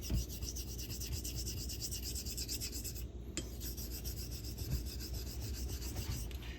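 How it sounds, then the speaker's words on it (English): A JA Henckels straight razor honed with heavy back-and-forth strokes on a convex coticule stone with slurry, giving a steady close gritty rasping with a brief pause midway, no speech. "You need it when you're doing heavy cutting like I'm doing right now to make a back bevel."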